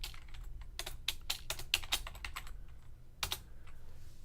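Someone types on a computer keyboard while writing code, giving bursts of quick, close key clicks separated by short pauses and followed by a final few taps.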